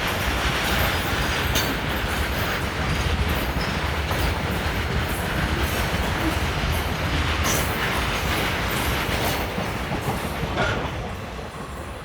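A train passes through Bilasipara railway station in a sustained loud roar of wheels and clattering wagons with some squealing, easing slightly toward the end, no voices.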